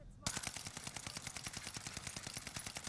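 Rapid automatic STG44 fire in a video game cracks out in a fast, even burst that runs almost the whole time, loud and close.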